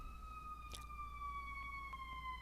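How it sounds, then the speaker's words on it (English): A faint, steady siren wails from a distance, its tone slowly sliding lower, with a few soft clicks. "There's a loud siren right outside"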